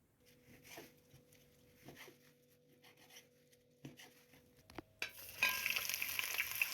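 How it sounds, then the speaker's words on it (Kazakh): Onion dropped into hot oil, quiet clicks and light scraping at first, then a sudden loud crackling sizzle bursts in and keeps going. "Қызып тұрған майымызға пиязымыз салып, сәл қуырып аламыз"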